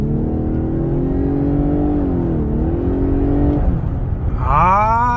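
A Lexus LS500h in Sport Plus mode gives off a loud, close engine drone whose pitch climbs, dips briefly and swells again. Near the end a sharp rising rev sweeps upward over a steady low rumble, with no talking.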